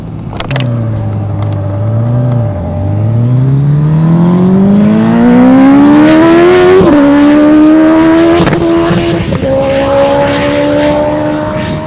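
A Suzuki Hayabusa motorcycle on a mile-long speed run at the Maxton Mile, its engine roaring loudly and continuously as it climbs through the gears, pitch rising steadily with brief dips at each shift.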